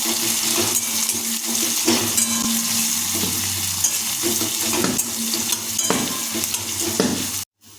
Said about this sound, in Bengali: তেলে যোগ করব কুচিয়ে রাখা পেঁয়াজ